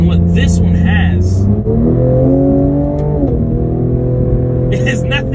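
Cadillac CT5-V with a 3-liter twin-turbocharged V6 revs in a steady, loud rumble, the pitch climbing and dropping once mid-way, with a voice talking over the engine throughout.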